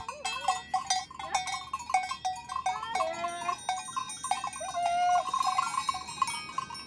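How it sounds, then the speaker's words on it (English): Nera Verzasca goats on an alpine mountain pasture, their cowbells clanking and tinkling in irregular overlapping rhythm, with occasional bleats rising and falling among them, nearby and moderately loud. "The goats eat the buds and leaves of plants, and thus help prevent scrub encroachment on mountain pastures."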